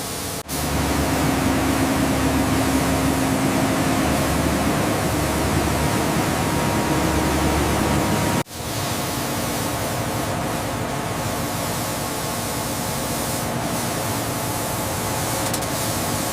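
Paint spray guns hiss in a loud, continuous broadband spray that stops briefly and then resumes at a steady level.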